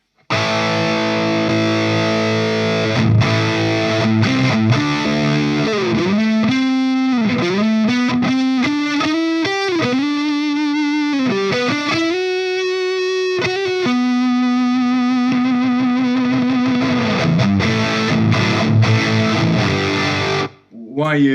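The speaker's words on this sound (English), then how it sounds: "if we boost the Plexi with a DS-1" A distorted electric guitar plays a wailing lead with sliding, bending notes and long sustained tones, loud and saturated through a cranked Plexi amp boosted by a BOSS DS-1 distortion pedal.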